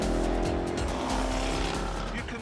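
Jaguar XE Project 8 on Michelin Cup tyres cornering at speed, its engine roaring loud and steady with tyres working hard against the track, a faint voice underneath.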